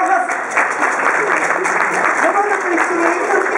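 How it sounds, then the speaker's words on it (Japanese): An audience applauds after a violin performance given together with a Toyota partner robot, with sustained clapping at a steady level and some voices underneath. "カウントダウンの方に大きな拍手をお願いします。"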